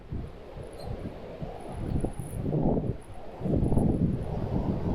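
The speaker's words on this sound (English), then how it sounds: "it's incredibly windy outside" Gusty wind buffets the microphone in low, rumbling bursts that rise and fall, loud and close outdoors.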